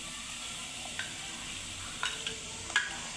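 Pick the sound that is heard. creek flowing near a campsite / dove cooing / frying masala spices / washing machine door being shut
frying masala spices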